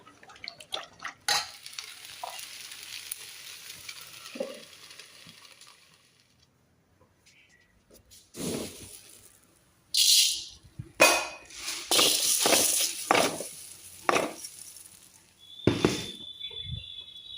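Puffed rice (muri) dry-roasting and being stirred in a pan over a lowered gas flame, heard as intermittent dry scraping and rustling bursts with metallic clinks, separated by quiet gaps, close and fairly loud.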